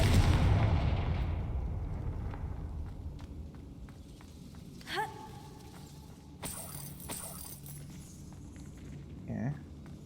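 Confringo fire spell in Hogwarts Legacy going off as a burst blast that decays into a rumbling tail, followed by a few sharp cracks and pops at moderate volume.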